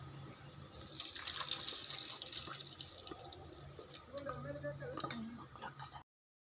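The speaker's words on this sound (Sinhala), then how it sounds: "ඊට පස්සේ කපු රෙදි කඩකට මේ වගේ මේ ටික පෙරා ගමු." Whey from curdled milk pours and trickles through a cotton cloth as paneer is strained, a soft steady splashing stream that swells and then thins into intermittent drips, with faint clinks near the end.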